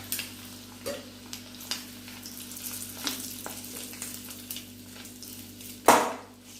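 Boiled eggs sautéing in a pan for egg curry: a soft, quiet sizzle with occasional stirring scrapes, a low steady hum underneath and one sharper clank of utensil on pan near the end.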